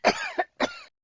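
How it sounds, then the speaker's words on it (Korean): Two harsh, rough coughs come from deep in the chest, close and loud, the second following a brief pause, with nothing else heard. "그러던 어느 날 가슴 깊은 곳에서 거친 기침이 터졌다."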